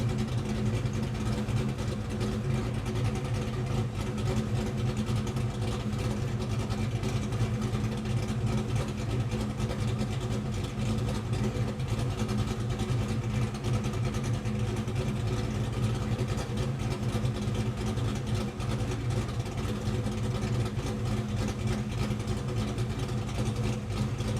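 A Ford Mustang Foxbody engine runs on a dyno during a tuning session, holding a steady, even drone at a constant speed the whole time, heard at moderate distance without any talk.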